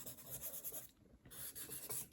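A pastel pencil draws across paper, giving a soft, chalky scratching texture in close, quiet strokes with a brief pause midway before the rubbing resumes.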